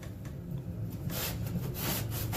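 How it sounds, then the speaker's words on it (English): A drywall patch is sanded smooth with a steady run of close, dry rasping strokes that grow louder and more pronounced partway through, with no talking. "it's just sanding and making it smooth"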